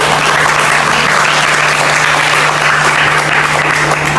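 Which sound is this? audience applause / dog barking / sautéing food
audience applause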